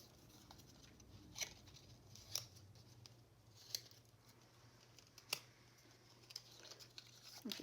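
Scissors make faint snips through paper while cutting room for a paperclip in a fall woodland journal kit, a handful of soft, widely spaced snips heard close over a quiet hum.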